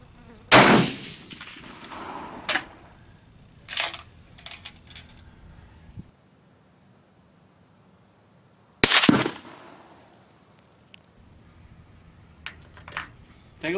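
Steyr rifle fire at a range with a 200-yard target: two sharp reports several seconds apart, each with a brief decaying echo, separated by quieter clicks and handling noises, no talking.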